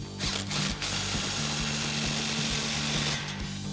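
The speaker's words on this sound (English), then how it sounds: "Another 16 mil socket. Don't fully tighten it yet, just snug it down to hold it in place." A hand ratchet with a 16 mm socket clicks in quick repeated strokes while snugging an exhaust bolt on a Toyota Tundra dual exhaust install, close and clear with no talking.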